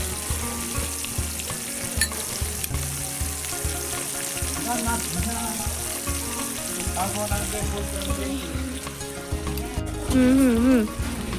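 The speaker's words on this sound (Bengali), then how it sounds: "আলু পটলটা ভাজা হয়ে গেছে।" Potato and pointed gourd pieces fry in oil in a home kitchen, a steady close sizzle with stirring scrapes, while faint voices or tonal sounds run underneath and grow louder near the end.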